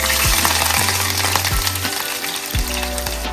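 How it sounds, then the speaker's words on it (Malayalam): Onions frying in sunflower oil for a Malabar chicken biryani, a loud continuous sizzle with bubbling crackle throughout, punctuated by a few low thumps of stirring or the pan shifting. "ഞാനിവിടെ സൺഫ്ലവർ ഓയിൽ ഉപയോഗിച്ചിട്ടാണ് ഇത് ഉള്ളി"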